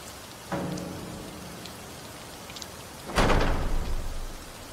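Steady rain falls throughout, pattering on a surface at moderate level, while a heavy door slams loudly partway through and a softer knock or bump sounds earlier.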